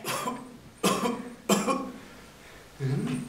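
Three distinct coughs, evenly spaced and close up, followed by a brief throat-clearing sound.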